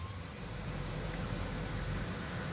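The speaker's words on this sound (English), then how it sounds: "Start this engine." Engine starting in a survival video game, a steady loud broadband rumble with a low drone that holds evenly throughout, no talk over it.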